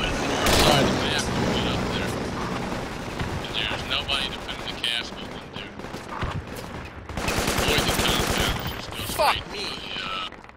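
Gunfire in the military shooter game Project Reality, with US Marine infantry crossing a valley: dense, loud bursts of shots and crackling impacts fill the scene almost continuously, with a heavier barrage near the end and voices talking over it.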